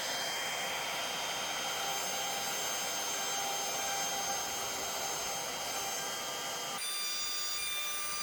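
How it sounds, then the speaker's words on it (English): A router with a flat-bottom bearing-guided bit cuts spotlight holes into wood against a template: a loud, continuous high-pitched motor whine with grinding, and the tone shifts abruptly near the end as the load changes. "Now I'm routing out the hole so they put the spotlights in, and I'm using like a flat bottom bit with a bearing on."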